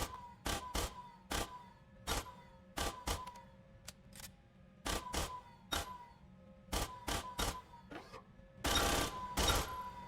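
Gunfire at the shooting range in the video game Aliens: Colonial Marines, sharp separate shots and short bursts spaced irregularly over a quiet background, ending in a louder rapid volley.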